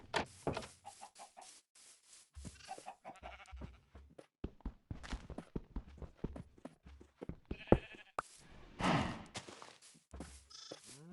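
Chickens in the Minecraft video game cluck in quick, clipped bursts, mixed with other bleating farm-animal calls and scattered game sound effects, fairly faint overall.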